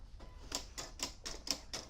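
A Silhouette cutting machine works on material for a wine bag, producing a steady train of evenly spaced, sharp mechanical ticks about four per second, fairly close and moderately quiet.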